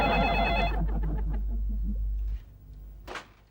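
A telephone bell rings in a steady buzzing trill under a low hum, then stops abruptly partway through, leaving a brief quieter tail with a short sharp noise after it.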